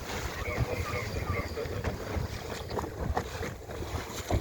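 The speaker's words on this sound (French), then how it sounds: "Il y a du vent, donc si je borde, je plane." Gusty wind buffets the microphone while a sailboat planes through the water, with splashing and rushing spray underneath.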